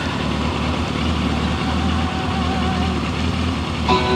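A 2000 Kawasaki Voyager XII motorcycle with 67,000 miles idling, a steady low rumbling engine thrum with an even pulsing beat, close and continuous, with a faint click near the end.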